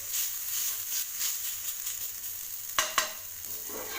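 Fenugreek leaves sauté in a pan for a tomato methi paratha filling, a steady soft sizzle with rhythmic stirring scrapes and two sharp utensil knocks near the end, close and alone without talk.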